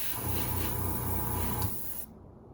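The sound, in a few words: airbrush spraying lacquer at 15 psi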